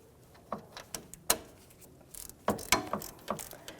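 A ratchet fitted with a deep socket works loose the vent tube bolt on a 1997-2006 Jeep Wrangler, giving a few faint, close clicking bursts with short pauses between strokes.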